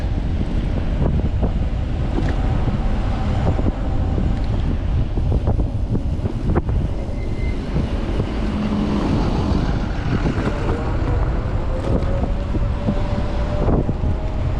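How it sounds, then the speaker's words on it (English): Wind coming off a river roars steadily into the microphone, a loud continuous buffeting rumble with faint background traffic and no talking. "It's that wind coming right off the river."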